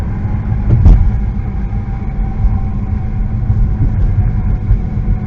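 Steady low road and engine rumble from a car cruising through downtown Concordia, Kansas, continuous and fairly loud with a brief thump near the start and no talking.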